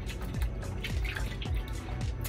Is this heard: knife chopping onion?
no